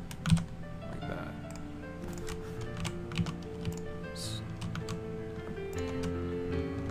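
Computer keyboard keys pressed in irregular bursts of crisp, close clicks and taps, some single and some in quick runs, over a faint steady background hum.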